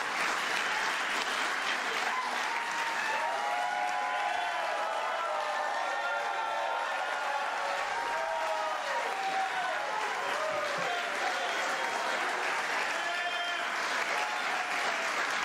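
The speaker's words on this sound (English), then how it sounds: "Seems like a weird time for a standing ovation, but okay." A large crowd gives a standing ovation, sustained dense clapping with scattered cheers and whoops, steady and loud throughout with a low voice murmuring under it.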